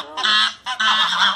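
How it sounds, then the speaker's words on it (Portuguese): A goose honks twice at close range, loud and nasal, while chasing people on a farm where chickens and pigs are also kept, each honk a sustained blaring call separated by a short gap. "O ganso corre atrás, ó."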